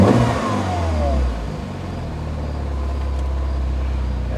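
A 2008 Mini Cooper S engine with no turbo boost revving up and settling, a loud, close mid-pitched engine drone that rises briefly, then holds at a steady lower hum.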